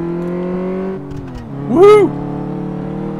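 Engine drone of a car in Car Mechanic Simulator 2015 pushed quickly over the suspension test track, holding a steady harmonic hum, dipping, then surging into a brief loud rev sweep before settling; a voice briefly whoops.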